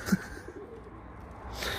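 Taklacı tumbler pigeon gives a brief soft coo near the start, then faint quiet background with a breathy rustle toward the end, no talk.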